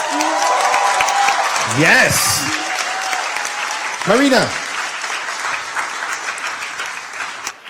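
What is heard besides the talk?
audience applause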